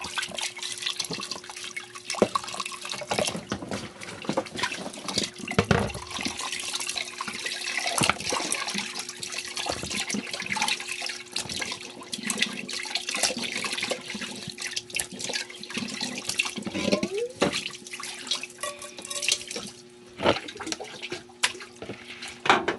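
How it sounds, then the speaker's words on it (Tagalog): Tap water runs and splashes steadily while something is washed under it, with irregular gushes and drips that rise and fall over a long stretch and no talking. "hugasan natin mabuti para matanggal"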